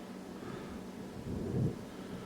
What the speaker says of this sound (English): Hear the thunderstorms?